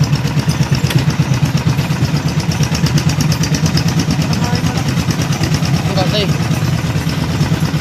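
Motorcycle engine running steadily with a fresh air filter just fitted, a continuous loud mid-pitched idle throughout with a faint voice underneath.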